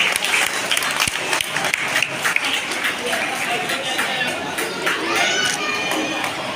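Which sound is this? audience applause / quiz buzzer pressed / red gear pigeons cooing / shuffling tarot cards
audience applause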